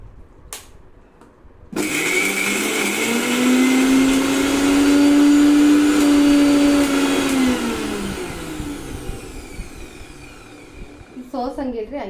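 A kitchen mixer grinder blends gooseberries, curry leaves, cumin and water, with a loud, steady motor whine running close for most of the stretch and fading as it stops, while a voice speaks briefly near the end.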